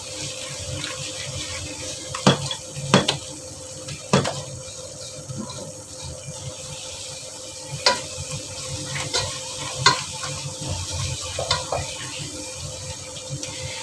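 A milk powder peda mixture is stirred and roasted in a nonstick pan, with a spoon scraping and clacking against the pan at irregular moments over a steady low sizzle. No one speaks.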